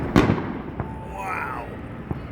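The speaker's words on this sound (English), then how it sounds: "That seems to be the end of the fireworks show over at the golf course" A neighborhood fireworks display over a Las Vegas golf course: one loud near bang opens, followed by a whistling rising shell and a couple of fainter pops, with crowd murmur underneath.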